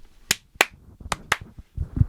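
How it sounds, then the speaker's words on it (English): Four crisp, sharp claps ring out in quick succession, close and distinct against near silence, followed by some low muffled rustling. "That's a quadruple clap."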